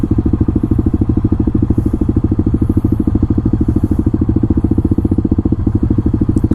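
Modded Kawasaki KLX300SM single-cylinder motorcycle engine pulling hard under acceleration, a steady rapid low thumping pulse, loud and close, with no talk over it.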